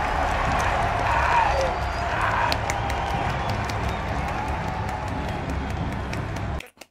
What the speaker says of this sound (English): Why are the crowd cheering?